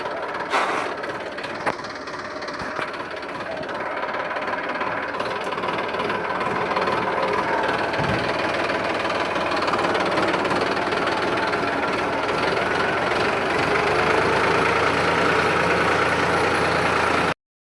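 A John Deere tractor engine runs steadily in a village setting, a continuous loud mechanical drone with low rumble and vibration holding for the whole stretch, no voices over it.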